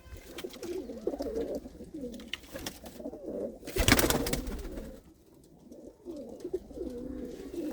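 Pigeons cooing in soft, repeated low murmurs throughout, with a brief louder burst of noise near the middle.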